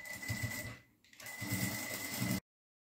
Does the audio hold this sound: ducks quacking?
no